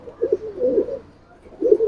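Giribaz pigeons coo softly in a few short, throaty bursts, close by and fairly quiet, with brief pauses between calls.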